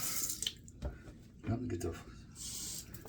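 Cold water runs from a bathroom tap into a sink during a shave, a soft hissing flow with some brief splashing, under a voice.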